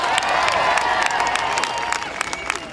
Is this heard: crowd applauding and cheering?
yes